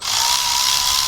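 A power ratchet loosens the axle bolts on an Infiniti G37 during a rear axle replacement, giving a loud, steady, high-pitched whir that runs unbroken for about a second with no voices.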